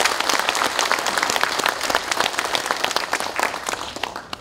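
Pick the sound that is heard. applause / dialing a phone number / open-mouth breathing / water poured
applause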